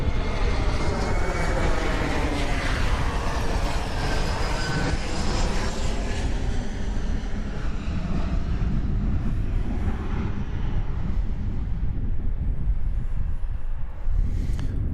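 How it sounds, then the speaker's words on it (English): An American Eagle Embraer 175 jet on approach to DFW Airport roars loudly overhead, its engine drone holding steady before gradually fading away, with no talking. "we're going to see if we can catch this plane coming in"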